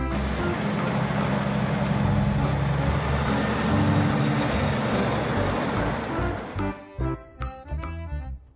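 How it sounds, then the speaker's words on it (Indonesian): An oil tanker truck rumbles past loud and close in heavy traffic noise, then the engine drops away and a few short knocks and thumps follow. "Truk tangki minyak."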